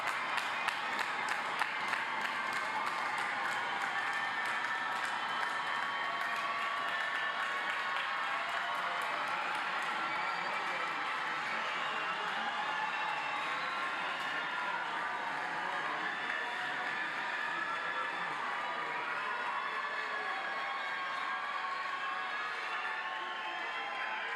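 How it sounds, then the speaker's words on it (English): A 2021 spring university commencement crowd breaks into sustained applause and cheering for the graduates, a broad steady roar of clapping and shouts that holds evenly for over twenty seconds. "Let's give them a big round of applause and congratulations."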